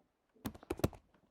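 A few quick computer keyboard keystrokes clatter close by while a command is typed, a short faint burst of three or four clicks in otherwise near silence.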